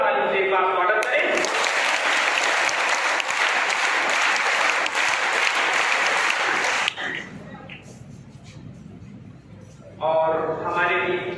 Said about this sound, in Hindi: आप सभी लोग जोरदार ताली से एक बार स्वागत करें।